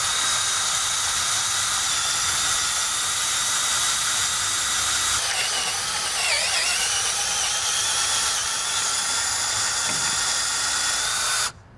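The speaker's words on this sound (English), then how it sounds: "we're using a 1/4 inch drill bit, and we're going to drill right on through here" A power drill with a 1/4 inch bit bores through a RidgePro head's threaded tip, a steady high whine with a shifting pitch midway, close and loud, then cuts off abruptly.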